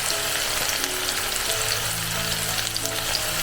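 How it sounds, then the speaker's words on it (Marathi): Onion sautéing in a pan over lowered gas heat while browning for black chana masala, a steady close sizzle and crackle with occasional stirring, no voices. "कांदा आहे तो चांगला परतून घ्यायचा जरा ब्राऊन झाला पाहिजे"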